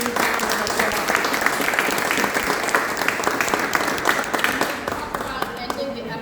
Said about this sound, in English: Please just give her a huge round of applause.